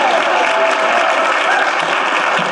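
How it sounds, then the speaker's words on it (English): An audience at an urban education symposium applauds a spoken-word poet, a steady, dense wash of clapping that holds evenly loud from start to finish with no voices standing out. "A round of applause to Spin."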